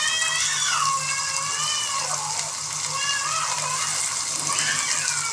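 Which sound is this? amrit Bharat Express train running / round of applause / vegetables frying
vegetables frying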